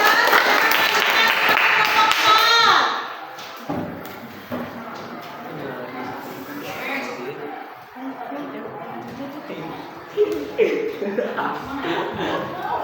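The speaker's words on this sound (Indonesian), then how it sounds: "Tepuk tangan untuk kelompok 3." A group claps loudly for a few seconds, then the applause stops and people chatter and talk in the room.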